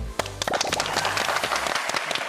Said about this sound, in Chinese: 他值得一个最大的掌声